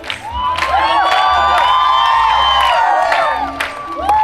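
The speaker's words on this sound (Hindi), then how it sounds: "तालियां।" A television comedy studio audience erupts in loud cheering, whooping and high shouts over bursts of applause, a sustained, close and energetic crowd roar.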